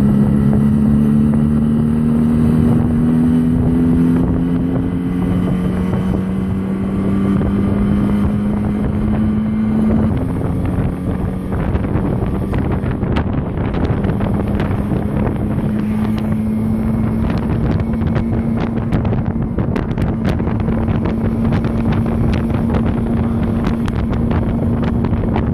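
A 1957 Berkeley SE328 car driving at speed, its small engine giving a steady droning hum that slowly rises in pitch, heard under heavy wind rush with no talking.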